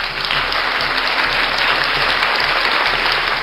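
A dense round of applause, many hands clapping steadily and loudly at close range with no voices over it, sustained from start to finish.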